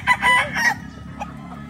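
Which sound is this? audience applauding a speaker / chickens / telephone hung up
chickens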